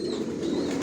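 Racing pigeons in a loft give a soft, low cooing, brief and fairly close, with no voices over it.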